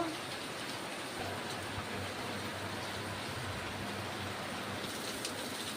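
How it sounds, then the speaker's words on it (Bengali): Heavy rain pours down in a dense, continuous hiss, steady throughout with no pauses. "খুব বৃষ্টি হচ্ছে ঝমঝম করে বৃষ্টি হচ্ছে"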